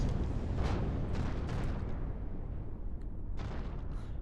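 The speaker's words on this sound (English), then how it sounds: "We just destroyed the launch pad." Launch pad blowing up in a video game: loud, rumbling blast with a rolling, crackling roar, including several bursts and debris-like pops over a few seconds.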